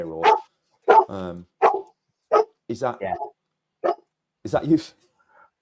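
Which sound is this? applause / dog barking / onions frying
dog barking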